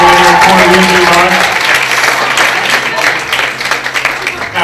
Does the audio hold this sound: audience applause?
yes